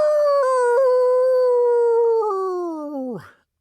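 A single long howl imitated by a voice, pitched like a wolf crying at the moon, sustained and loud for about three seconds before falling away sharply at the end.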